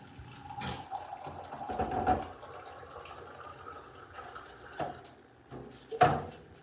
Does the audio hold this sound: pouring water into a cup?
yes